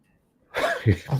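A single loud, sudden cough bursts out after a moment of quiet, harsh and close.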